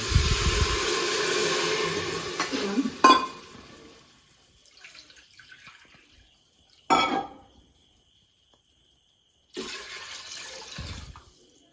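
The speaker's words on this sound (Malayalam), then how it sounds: "ഇതേ പാത്രത്തിൽ രണ്ട് പാത്രം വെള്ളം ഒഴിക്കണം" Water pours steadily into a pressure cooker for ghee rice for a few seconds, then a clunk, followed by a couple of short splashing pours after quiet pauses.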